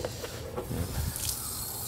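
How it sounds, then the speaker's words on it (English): Water sprays from a hose or sprayer onto a car wheel in a soft, fairly faint hiss. It starts with a few short bursts and settles into a steady spray. "Spray my wheel down."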